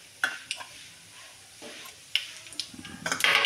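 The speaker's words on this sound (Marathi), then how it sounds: "याच्यामध्ये मी उडीद डाळ आणि शेंगदाणा घातलेलं आहे. छानच भाजून घ्यायचं आहे." Urad dal and peanuts dry-roasting in a pan with cumin, stirred in a few scraping bursts over a faint steady crackle, close and moderately quiet.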